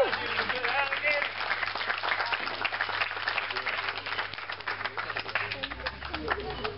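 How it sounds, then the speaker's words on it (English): An audience at an alligator show at an Everglades alligator farm breaks into steady applause, a dense wash of clapping from many hands that carries on throughout with voices mixed in. "Give him a round of applause."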